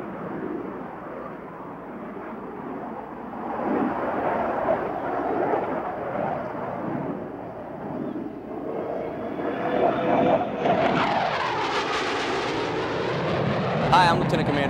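Blue Angels jet aircraft taking off and pulling through a split S, a loud broad roar that swells and sweeps in pitch as the jet passes, with a commentator speaking over it.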